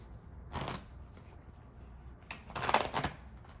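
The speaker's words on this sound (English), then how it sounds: "I'm gonna pull you some self-care cards" Self-care oracle cards are shuffled in two short, soft bursts of riffling, close and quiet, with no voice.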